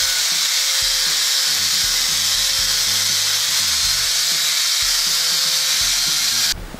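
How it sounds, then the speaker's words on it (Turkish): A grinding motor shapes a steel blank into a knife, producing a steady high-pitched grinding hiss with a faint intermittent low rumble beneath. The sound runs close and continuously, then cuts off abruptly near the end. "Sonra bunu bir taşlama motoruyla veya uygun bir ekipmanla bıçak formuna getirdik."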